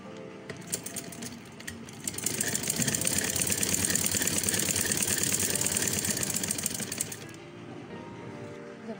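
A sewing machine stitches elastic onto a baggy sleeve, running in one steady, fast whirring burst of several seconds after a few short starts, close and clear with no talk.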